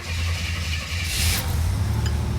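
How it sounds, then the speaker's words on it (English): Car engine cranking and catching, a low throbbing idle building with a brief bright burst partway through, then settling into a steady running rumble close by. "we'll get started by starting the car here"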